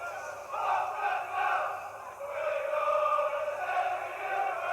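Football fans cheer and roar in a stadium crowd at a Leeds United versus Southend match, a steady swelling wash of voices with no clear talk on top.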